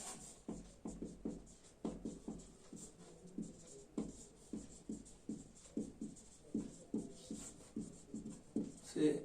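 Chalk or marker scratching across a board during a math lecture on the Gauss elimination method, in rhythmic short strokes, close and fairly clear, with brief quiet speech in between.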